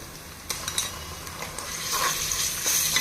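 Onions fry in a pan for prawn pulao, a continuous hiss and crackle with occasional scrapes and stirring clicks from a utensil, growing slightly louder toward the end, no one speaking.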